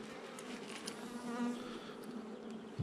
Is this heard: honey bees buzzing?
yes